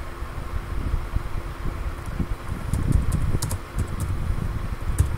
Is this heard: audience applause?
no